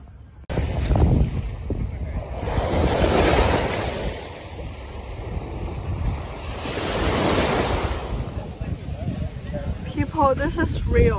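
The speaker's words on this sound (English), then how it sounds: "now we're heading to the beach." Ocean waves on a Miami beach surge and wash in two broad swells, mixed with gusty wind noise against the microphone, fairly close and continuous.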